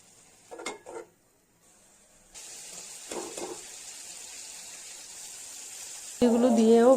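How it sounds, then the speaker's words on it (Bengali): Shrimp sautéing in spice masala in a kadai for a raw mango dish, a steady sizzle punctuated by a few spatula scrapes and stirs, with a voice entering near the end. "এগুলো দিয়েও ভালো করে কষিয়ে নেব।"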